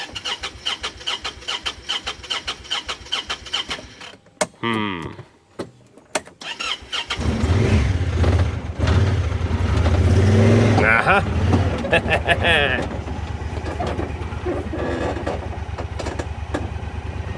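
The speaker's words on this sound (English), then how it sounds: "it kind of seems like it wants to stall out every time you let off the gas entirely and it idles for a second" A side-by-side UTV bought at auction as inoperable idles roughly, stumbles and stalls, then cranks and restarts into a louder rough running engine that settles back to idle, with people talking nearby.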